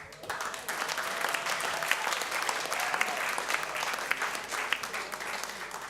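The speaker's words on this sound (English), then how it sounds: "give him a big round of applause" Evening show audience at CAS applauds as Peter is introduced for the workshops: steady, full clapping from a crowd, sustained at an even level for several seconds with scattered sharper claps poking through.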